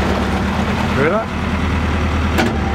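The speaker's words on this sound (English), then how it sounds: "some of the noises that the gearbox was making" The damaged gearbox of a stranded narrowboat on the River Thames runs with a loud, steady low droning rumble and a rhythmic knocking pulse, while a voice speaks briefly over it.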